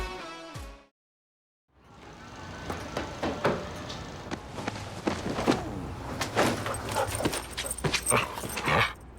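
A dog in a television commercial barks and whimpers, with a tone cut short at the start, a brief silence, and then scattered yips, knocks and rustling at moderate volume.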